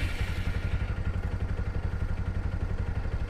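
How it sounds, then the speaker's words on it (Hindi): A Bajaj Pulsar AS200 motorcycle with a carburettor misfiring problem idles close by, its engine thumping in a fast, slightly uneven pulse with mechanical clatter over a low steady throb. "मैं करता हूँ बाइक को स्टार्ट और आप नोटिस करना, आपको एक दिक्कत समझ में आएगी।"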